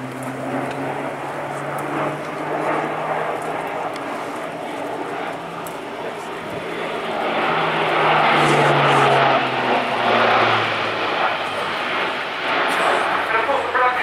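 An Airbus A400M military transport aircraft roars through a flying display at the Royal International Air Tattoo 2016, a loud sustained engine drone swelling as it passes, with an announcer talking over it.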